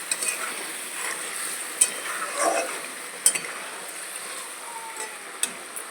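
A spoon stirring rohu fish with cauliflower and potato curry in a pan, giving a soft steady sizzle with faint scraping and occasional sharp clinks of utensil on the pan.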